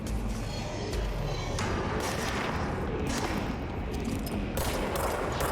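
Gunfire in a first-person video game: a dense, continuous barrage of shots and booming thuds, loud and close throughout with no pauses.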